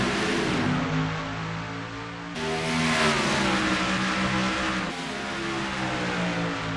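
Race cars of a fictional Piston Cup All-Star Race at Dover Motor Speedway roar loudly as the green flag drops, a dense pack of engines revving steadily with pitch shifts as they accelerate, continuous and close.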